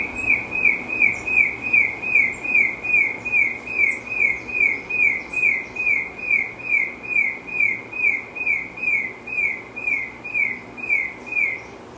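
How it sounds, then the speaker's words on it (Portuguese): A pet bird sings a steady run of repeated bright chirps, about two per second, fairly close and loud, with no talking over it. "Participação especial do meu passarinho."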